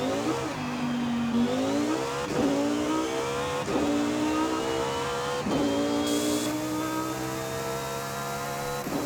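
Lamborghini Huracan STO in the Forza Horizon 5 racing game, its engine revving hard through repeated upshifts, each gear a rising howl cut by a brief dip, steady and fairly close with no talking.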